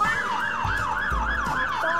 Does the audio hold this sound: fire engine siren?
yes